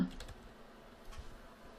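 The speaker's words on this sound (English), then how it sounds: "begin typing your hashtag" Typing a hashtag on a computer keyboard, a short run of faint, quiet key clicks at an uneven pace, heard alone with no talking.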